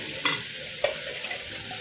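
Indian broad beans (avarekai) tossed into an oily pan and stirred, with two quick scraping strokes over a steady, moderately loud sizzle, close and without any voice.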